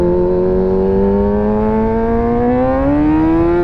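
A 600cc sport bike engine revs with a steady, rising whine that climbs gradually in pitch over several seconds, loud and close with no talk over it.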